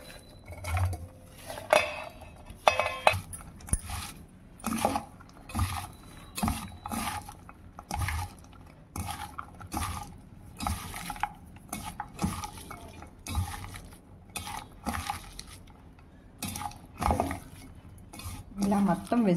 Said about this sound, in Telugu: వీటన్నిటిని వెజిటేబుల్స్తో పాటు కలుపుకోవాలి.